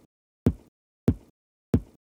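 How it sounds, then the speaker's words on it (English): Three short, punchy EQ'd kick drum hits with a sharp click at the front, evenly spaced, dry and close with nothing else sounding. "So what I did underneath is just find another kick drum"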